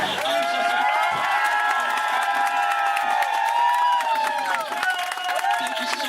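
A boat full of Jungle Cruise riders at a Disney park cheers, whoops and claps together, a dense crowd roar of excited voices and children's shouts that stays steady and close.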